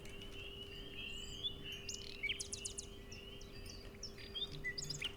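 Birdsong used within a music arrangement: many short bright chirps and tweets scattered throughout over a steady low sustained tone, moderately quiet and continuous, with no talking.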